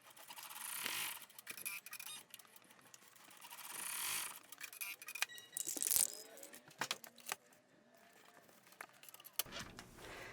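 An embroidery machine stitches a placement outline, giving a quiet, busy run of rapid mechanical needle clatter and small rattling taps that rise and fall over about ten seconds.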